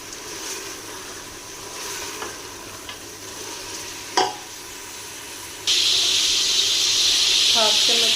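Mutton for yakhni frying in a pot, stirred with occasional scrapes and knocks before a loud, steady sizzle surges up and continues close by, with no voices.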